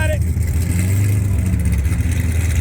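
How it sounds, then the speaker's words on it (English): A car at a Sunday morning car meet revs its engine through the exhaust, a steady, loud, throaty rumble held nearby for the whole stretch, with outdoor crowd noise around it. "It's all about the exhaust."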